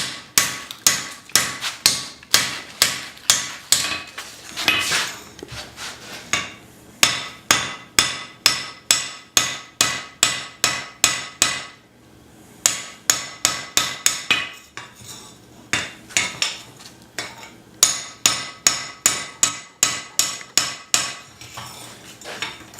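Rapid, rhythmic metallic blows of a light cross peen hammer on hot steel while forging a hatchet, ringing out in bursts, dozens of close, bright strikes with brief pauses between runs, no voices.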